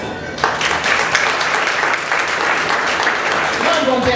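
An audience at a talk bursts into applause that starts abruptly and holds steady, loud, dense clapping filling the room with a few voices mixed in near the end.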